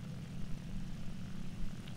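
Propeller fighter plane engine in the War Thunder video game, a steady, loud low drone holding evenly throughout with no talk over it.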